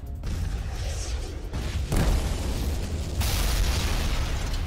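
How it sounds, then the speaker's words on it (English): Rumbling explosions in the strategy game Rise of Kingdoms, a sudden booming burst near the middle followed by a louder sustained blast, dense and close with no talk. "One last explosion."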